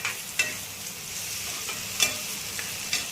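Diced ivy gourd and grated coconut sizzle in hot oil in a home kitchen, a steady broad hiss broken by a few sharp scrapes of a spoon stirring the pan.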